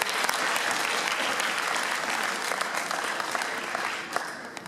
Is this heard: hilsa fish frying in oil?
no